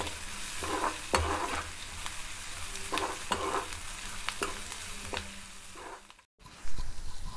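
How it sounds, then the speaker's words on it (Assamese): Onions and fresh green chillies with a little ginger and garlic frying in hot oil for a colocasia and chickpea curry, a steady close sizzle broken by several scraping stirs of a spatula in the pan. "মই পিঁয়াজখিনি ৰঙচুৱা হোৱালৈকে ভাজি দিম"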